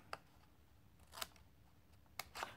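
Scissors cutting paper for a handmade photo album, a few crisp separate snips spaced about a second apart, close and quiet in an otherwise still room.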